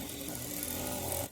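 A sewing machine stitching canvas onto blouse lining along the edge, a continuous steady motor whir running close and even before stopping abruptly.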